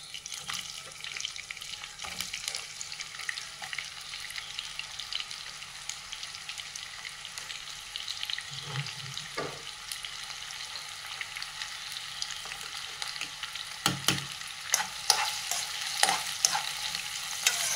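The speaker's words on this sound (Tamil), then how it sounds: "வெங்காயம் வந்து நல்லா வதங்கணும், செவந்து வரணும், அந்த அளவுக்கு வதங்கணும்" Long-sliced large onions sizzle softly in a pan while a utensil stirs and scrapes now and then, quiet and close with a few sharper knocks.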